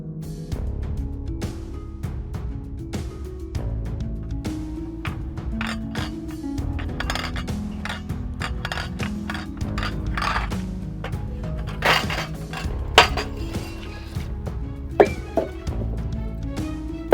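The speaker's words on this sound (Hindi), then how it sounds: "यहाँ पर बर्तन धो रही है" Dishes, pots and cutlery clink and clatter as they are washed at a hotel, a busy run of sharp metallic and ceramic knocks over about seventeen seconds, with louder bangs near the end.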